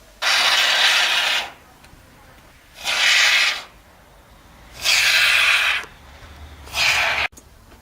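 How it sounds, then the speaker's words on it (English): Expanding foam pumped from a can into the gap around a uPVC window frame, four separate hissing bursts each lasting about a second, fairly loud and close, with quiet pauses between them. "go outside and pump foam in around the edge of it"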